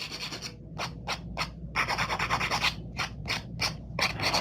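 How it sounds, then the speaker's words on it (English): A hand file rasps in short, rhythmic strokes as nails are shaped into a sharp stiletto form, the scratchy passes close and fairly loud with brief pauses between bursts. "Hand filing actually helps the stiletto shape."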